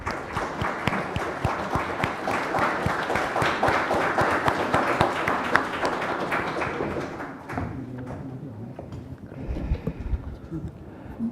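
Dense applause from a large audience at a Korean National Assembly budget forum, steady for several seconds, then thinning into scattered claps before fading out.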